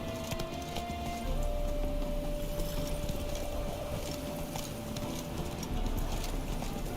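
The horse Roach galloping in The Witcher 3 video game, a steady clip-clop of hooves under a constant ambient bed of wind and game sound.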